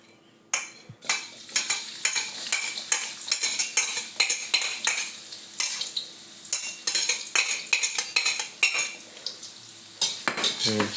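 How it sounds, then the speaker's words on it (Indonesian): Sliced shallots and garlic sizzle in hot oil in a pan while a metal utensil stirs and scrapes repeatedly in a quick, steady rhythm, close and fairly loud. "kita tumis bawang merah dan bawang putih yang sudah diiris-iris tadi"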